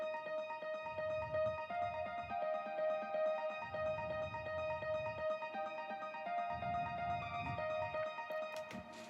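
A finished melodic house track: a bright arpeggiated synth line panned across the stereo field over a sustained pad, with bass pulses coming and going in sections, steady and moderately loud throughout.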